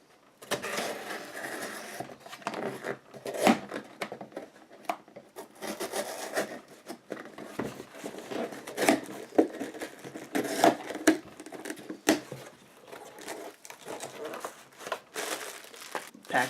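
A pocket knife slices and scrapes through cardboard tape and flaps, producing close, crinkly rasping strokes in irregular bursts with brief pauses, fairly quiet and without speech.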